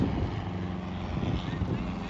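A helicopter at close range gives a steady low whirring, rotor-like roar throughout with some wind buffeting, while excited voices talk over it.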